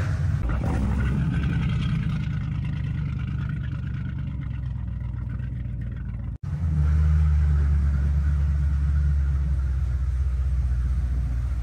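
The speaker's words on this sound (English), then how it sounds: "With this switch, we engage the fuel pump to start up the engine." A Jet Capsule Hypersport boat engine rumbles heavily close by, briefly cuts out, then restarts and settles into a loud, steady low drone with no voices.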